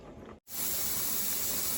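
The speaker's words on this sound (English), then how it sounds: "this is steady steam coming out" Steam vents steadily from a pressure canner during the canning of vegetable beef soup, a loud continuous close hiss that breaks off for a moment and then resumes at full strength.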